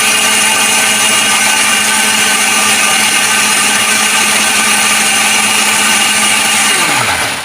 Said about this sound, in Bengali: তো এখন আমি আরেকটু ভালো করে ব্লেন্ড করে নিচ্ছি।